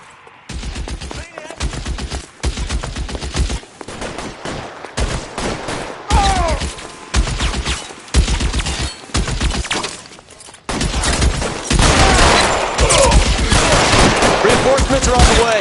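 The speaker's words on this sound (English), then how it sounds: "Open fire!" Rapid bursts of gunfire in a shootout in the video game L.A. Noire, loud and dense, with volleys broken by short gaps before building into sustained continuous firing near the end.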